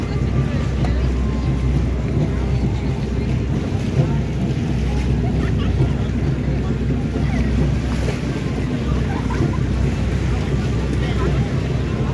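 Boat engines rumble steadily on open water during a fluvial procession in Cebu, Philippines, amid wind buffeting the microphone, with waves and a continuous low churning noise throughout.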